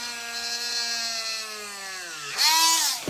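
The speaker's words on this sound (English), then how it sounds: "right now, we are drilling 2 holes here and 2 holes here to attach the coconut" A power drill bores holes through a cup for a coconut glider toy, its motor whining steadily and gradually lowering in pitch under load before a brief sharp rise at the end.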